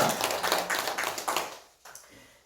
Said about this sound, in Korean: 우리 하나님께 우리 영광의 박수 함께 올렸으면 좋겠습니다